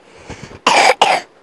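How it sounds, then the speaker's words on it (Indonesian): A person gives two loud, close, harsh coughs in quick succession, preceded by a couple of softer throaty sounds. "lagi batuk ya?"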